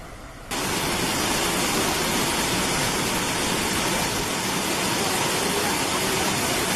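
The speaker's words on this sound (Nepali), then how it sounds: "सुन्दरीजल झरना" Sundarijal waterfall in Nepal roars as a steady, loud, broadband rush of falling water that starts abruptly and holds constant, with no voices.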